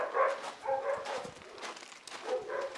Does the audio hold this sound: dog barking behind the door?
yes